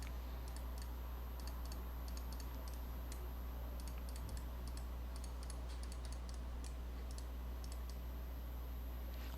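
Quick clicks from a computer mouse, likely mixed with keyboard taps, sound in a steady close rhythm during 3D product modelling work, over a constant low hum with no voice.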